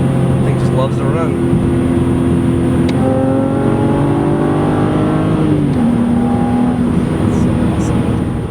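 A 2007 BMW Z4 3.0si Coupe engine pulls steadily under throttle, its rising tone climbing and shifting through gears, continuous and close with interior rumble, while someone talks over it throughout.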